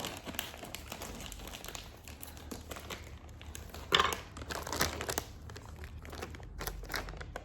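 A plastic chip bag is handled and cut open with close crinkling and rustling, including a brief sharper crunch midway, quiet and without talking.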